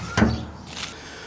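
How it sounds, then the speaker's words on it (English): The door of a smoker holding a whole pork loin swings shut with a single close wooden thump, followed by a faint scrape. "Let's get this door closed."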